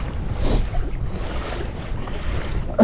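Strong wind on a lake, heard from a pedal-drive kayak in 15 to 20 mph gusts, a loud continuous buffeting rush against the microphone, with water sounds blended in.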